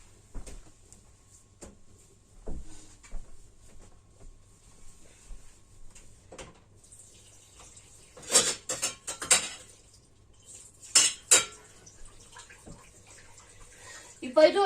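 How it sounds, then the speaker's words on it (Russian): Dishes and cutlery being rinsed under running tap water in a home kitchen, with intermittent clinks and clatters and bursts of water splashing between quieter pauses, close by and without talk. "Сейчас переполоскаю посуду."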